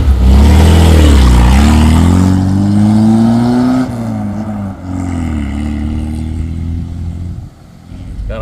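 1994 Suzuki Escudo JLX jeep on a test drive along a normal road, engine droning loud and close with a rising rev early on, then settling to a steadier hum with small dips as gears change.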